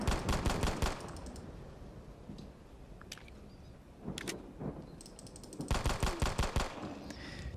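Pistol gunshots in the video game Resident Fear, fired in two rapid bursts of loud, sharp cracks at the start and near the end, separated by quieter in-game ambience with a few isolated clicks.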